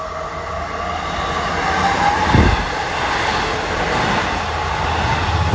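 An eastbound LIRR commuter train of M9 cars bound for Huntington arrives at Merillon Avenue station, a loud, continuous rail rumble with a single heavy thump partway through.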